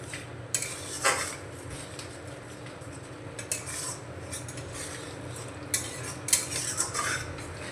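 A spoon clinks and scrapes in a pan as powdered kasuri methi is stirred into a chickpea paneer masala curry, giving a few sharp metallic taps over a steady low background rumble, with no talking.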